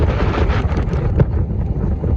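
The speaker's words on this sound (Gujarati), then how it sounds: "પવન ચાલુ થઈ ગયો ફૂલ." Strong, gusty wind blowing just before the first monsoon rain, a loud and steady roaring rush that buffets the microphone throughout, with no voices.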